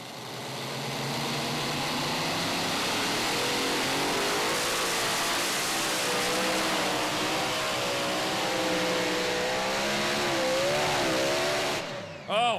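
A super modified tractor roars through a pulling run at a competition, its engine a loud sustained howl with rising and wavering pitch over many seconds before cutting off abruptly near the end.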